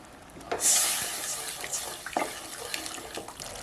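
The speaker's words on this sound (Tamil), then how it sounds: "இது கூட அரை டம்ளர் அளவுக்கு தண்ணி விட்டுக்கலாம்" About half a tumbler of water splashes into a pan of hot masala for elephant yam varuval, a loud hissing pour that starts abruptly, then settles into softer sizzling and bubbling.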